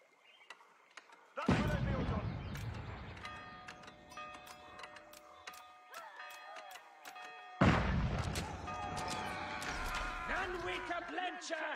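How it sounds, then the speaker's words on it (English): Siege artillery fires in a video game battle, two heavy booming blasts several seconds apart with long rumbling decays, layered over ticking and clattering game sounds. "Siege artillery's moving."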